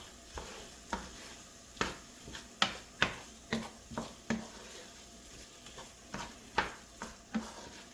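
An egg scramble with meat and vegetables is stirred in a pan, with a steady run of distinct scraping strokes over a faint sizzle, each stroke fairly close and crisp.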